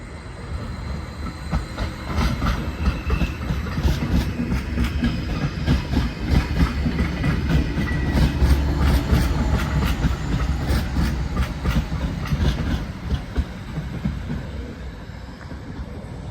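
A train rumbles past a depot in Norway, a steady loud roar with rhythmic clacking that swells in the middle and eases toward the end.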